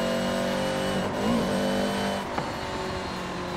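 An old classic barn-find car engine in Forza Horizon 5 drones steadily, then revs briefly, with a sharp click partway through, heard from outside the vehicle at moderate volume.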